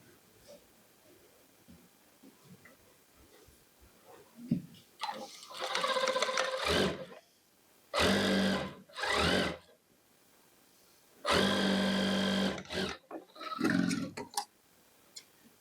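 A sewing machine stitches the extra fabric at a kurti pocket opening in several quick runs: short, loud mechanical rattling bursts separated by quiet pauses, heard up close.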